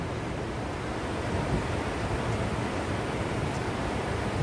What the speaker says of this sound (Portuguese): Só escutando o barulhinho do mar.